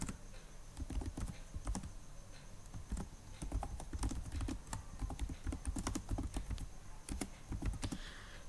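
Rapid clicking of a computer keyboard as Java test code for TestNG is typed, steady irregular keystrokes close up with a low hum underneath and no talking.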